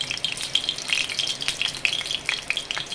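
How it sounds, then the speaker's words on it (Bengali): Dried red chillies frying in mustard oil give a steady close sizzle with quick crackling pops spread across a few seconds, heard alone. "দুটো শুকনো লঙ্কা ভেজে তুলে নেব।"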